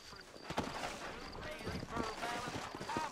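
Horse hooves clip-clop in a rapid rhythm in the Red Dead Redemption video game, moderately loud, mixed with voices and background game sound.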